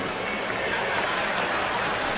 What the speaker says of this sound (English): Listen to the reaction of the crowd in the background.